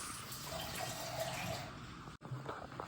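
Water poured into a pan of date chutney at a farm, giving a steady splashing, trickling stream for about two seconds before a brief cut, then lighter sloshing and stirring noises close by.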